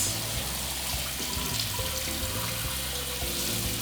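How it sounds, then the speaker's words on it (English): A kitchen or bathroom tap runs steadily, wetting both sides of a sheet of watercolour paper, with a continuous close splashing hiss that holds level throughout, no voices. "I'm going to run this tap"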